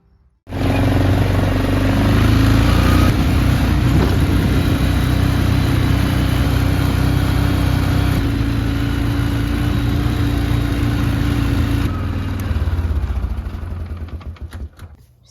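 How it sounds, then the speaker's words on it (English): A four-wheeler ATV engine starts and runs as it is moved on a small farm: a loud, steady mid-pitched engine drone with a clicking rattle, then it tapers off near the end. "I gotta move the four-wheeler,"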